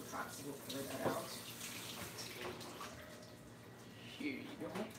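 Kitchen tap water runs steadily over salad greens being washed, a soft continuous splashing rush with faint clinks and movement throughout.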